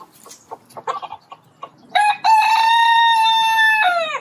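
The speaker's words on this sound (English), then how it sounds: "Mr. Fancy Pants the rooster has an announcement to make" Mr. Fancy Pants the rooster gives a loud, close crow lasting about two seconds with a clear rising then held tone, after a stretch of soft clucking and scratchy farmyard noises.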